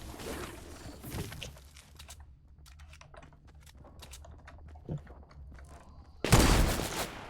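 Sharp gunshots ring out sporadically in a Fortnite: Battle Royale kill cam replay, with scattered cracks and a loud burst of fire near the end.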